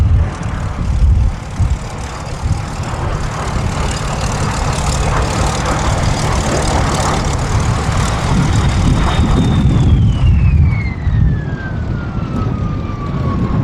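A Canadair F-86 Sabre and a de Havilland Vampire FB.52 jet touch down at the Battle of Britain Air Show at Duxford, a loud, steady engine roar whose high whine slides downward as they pass.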